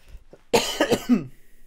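A single sharp, loud cough up close, with a short rasping tail, preceded by a faint breath.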